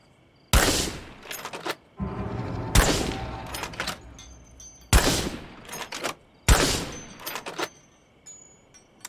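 Gunfire in State of Decay 2, with about five loud, close shots at irregular intervals, each a sharp crack followed by a ringing tail and some mechanical clicks.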